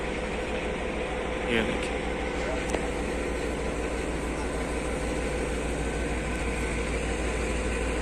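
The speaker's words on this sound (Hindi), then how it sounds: "क्योंकि रेलवे स्टेशन है डेरा नवाब का, तो आपको गाड़ी का शोर भी आ रहा होगा" A train rumbles with a continuous low roar at Dera Nawab railway station, steady and fairly loud throughout, while someone speaks briefly over it.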